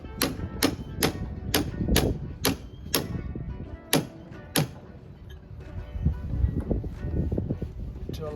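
A C-spanner taps down the jacket on a GORI three-blade propeller shaft: a series of sharp metallic knocks in an irregular rhythm, close and distinct, then lighter clatter and handling noise.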